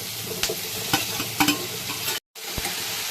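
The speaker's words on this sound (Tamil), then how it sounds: "வெங்காயம் பொன்னீர் ஆகிற வரைக்கும் நல்லா வறுத்துருணுங்க" Onions sizzle and fry steadily in a pan while being stirred for tiffin sambar, with scraping stir strokes through the constant hiss and a brief dropout near the end.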